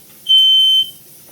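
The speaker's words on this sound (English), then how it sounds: "the smoke detector went off because of the smoke" A smoke detector set off by cooking smoke from frying onions in a home kitchen sounds one loud, piercing, steady beep lasting about half a second, close by in an otherwise quiet room.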